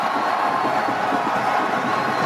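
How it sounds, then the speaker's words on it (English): A large stadium crowd roars and cheers in a steady, dense wash of noise at a SEA Games football final in Vietnam, with no single voice standing out. "2 minutes of cheering,"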